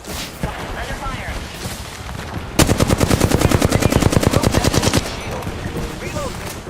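Automatic weapon fire in Apex Legends, a sharp burst of rapid, loud, evenly spaced shots lasting over two seconds, with scattered quieter game sounds and brief voice chatter around it.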